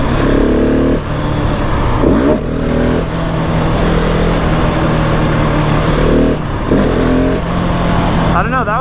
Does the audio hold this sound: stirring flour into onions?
no